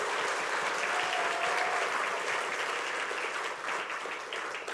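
A hall full of hospital staff applauds at an eye hospital anniversary celebration, dense, sustained clapping that holds steady and fades slightly toward the end.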